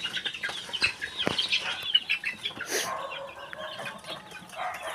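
Chickens cluck in a chicken coop, with scattered close clucks and a brief flutter of wings over a low background, and no speech.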